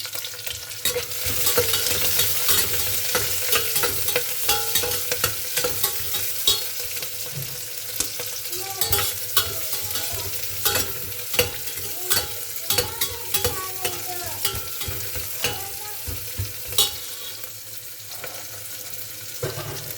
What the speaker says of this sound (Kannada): ಆಮೇಲೆ ಈರುಳ್ಳಿ, ಹಸಿಮೆಣಸಿನ್ಕಾಯಿ, ಅದನ್ನು ಸ್ವಲ್ಪ ಚೆನ್ನಾಗಿ ಬಾಡಿಸ್ಕೊತಾ ಇದ್ದೀನಿ